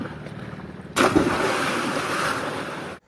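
Bodies jump into a lake beside a boulder field at the foot of Dyrfjöll, setting off a sudden loud rush of splashing water that churns for about two seconds before cutting off abruptly.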